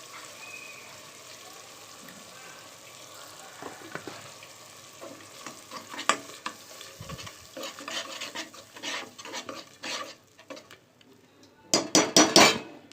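Tomato gravy poured into a hot pan for a meal maker rice dish sizzles quietly, then spoon-on-pan stirring scrapes and clinks grow louder, ending in a burst of rapid, close metallic stirring.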